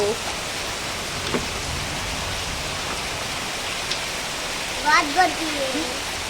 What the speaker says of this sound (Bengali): দেখো কিভাবে জলগুলো পড়ছে